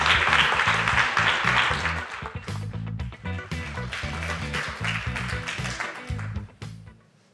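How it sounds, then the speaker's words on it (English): Audience applauding at a youth talks event, a sustained, fairly loud crowd clapping that holds steady for several seconds over a low musical background, then fades toward the end. "will you give a big round of applause to Franny?"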